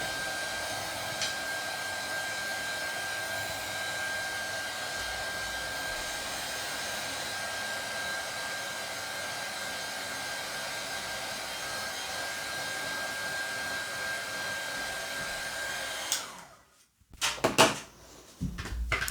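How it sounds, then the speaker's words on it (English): A handheld craft heat tool blows steadily and loudly for about sixteen seconds while drying a watercolour card, then cuts off, followed by a few brief handling knocks. "So I've decided to come in with my heat tool."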